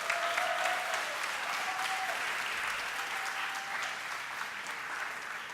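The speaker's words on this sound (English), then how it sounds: "So let's give Bishop a big round of applause." A large audience at a 2019 high school commencement ceremony claps in steady, sustained applause, heard from some distance in a reverberant hall, fading slightly toward the end.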